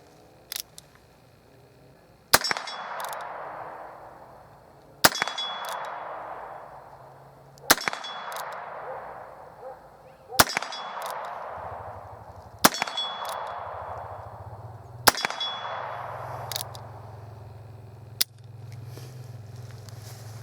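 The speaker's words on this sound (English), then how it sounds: "Popped off 6 quick shots" Heritage Rough Rider single-action revolver fired in a quick series of about seven sharp, loud shots spaced a couple of seconds apart at an outdoor range, each with a short ringing decay.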